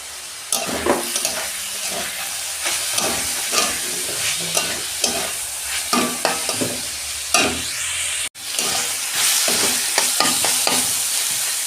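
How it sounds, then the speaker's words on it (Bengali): Squash pieces frying in oil with spices and curry leaves, stirred with a spatula in quick, repeated close scrapes over a constant loud sizzle, with one abrupt brief break near the end. "দেখুন বন্ধুরা, কোয়াশ ভাজা হয়ে গেছে,"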